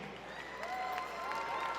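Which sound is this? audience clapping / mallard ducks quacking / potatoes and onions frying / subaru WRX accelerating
audience clapping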